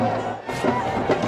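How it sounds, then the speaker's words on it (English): Cricket stadium crowd cheering during an India versus New Zealand match, a broad roar of many voices rising and falling with a commentator talking over it. "Well, the crowd are happy."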